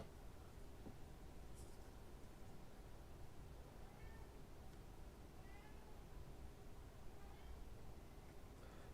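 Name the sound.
cat meowing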